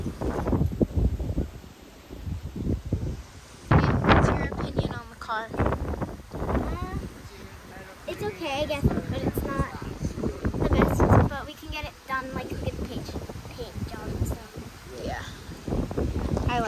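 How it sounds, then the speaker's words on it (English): Strong outdoor wind buffeting a microphone in gusty bursts, loud and rumbling beneath a family talking continuously while collecting a car. "And sorry about the wind. It was rather windy on this day,"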